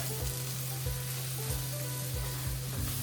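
A chicken quesadilla fries in butter or oil in a pan with a close, continuous sizzle that holds steady throughout, with faint low knocks and no talking.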